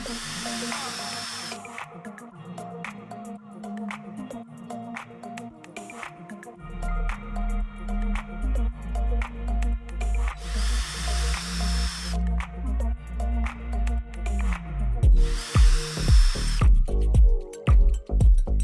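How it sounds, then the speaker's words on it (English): A power drill drives the included screws to mount roller shade brackets inside a window frame, whirring in repeated short bursts with pulsing revs and a few pauses. "mount both brackets using the included screws and tighten them until the brackets feel solid and secure"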